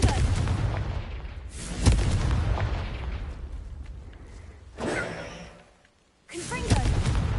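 Confringo blasting spells go off in a game, several loud booming bursts with rumbling tails separated by brief lulls, close and heavy.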